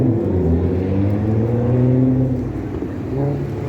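Buses and cars pass along a Toronto street, engines rumbling close by and swelling as a heavy vehicle goes past, then easing off as traffic moves on.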